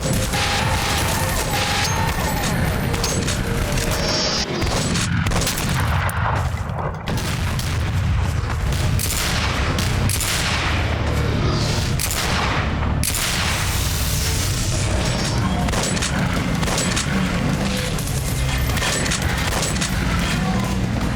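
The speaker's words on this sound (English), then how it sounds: "All guns sound good and pack plenty of punch." Gunfire from the first-person shooter E.Y.E.: Divine Cybermancy, a dense, continuous barrage of loud booming shots and blasts packed close together throughout, with no speech.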